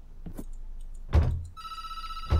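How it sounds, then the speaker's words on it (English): A telephone rings in the video game Reflections, a bright electronic ring starting partway through with a thud and a soft knock before it, heard alone and moderately close. "Oh, there's the phone again."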